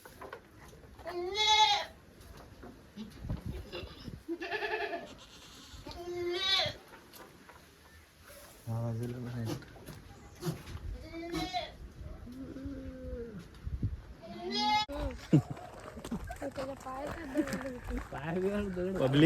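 Goats on a village goat farm bleating repeatedly, several distinct nearby calls spaced across the stretch, with people talking in between and under them.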